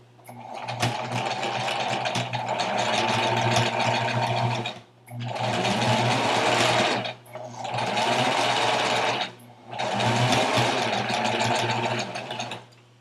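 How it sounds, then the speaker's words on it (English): A sewing machine stitches a T-shirt seam in four long bursts of rapid, even mechanical whirring, each stopping briefly before the next run, close and loud with no talk. "I'm just going to directly sew it"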